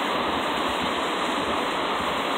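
A creek flows steadily and loudly, its broad, continuous rushing and splashing close by and unbroken throughout, with no voices.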